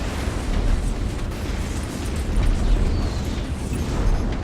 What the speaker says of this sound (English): Let me get my dumbfire missiles out and try and kill these things.